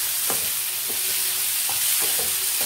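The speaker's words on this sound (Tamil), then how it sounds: "ஈரல் நல்லா அந்த எண்ணெயிலையே வதங்கணும்." Liver sautés in oil in a pan, a continuous close sizzle broken by several sharp scraping stirs at irregular intervals.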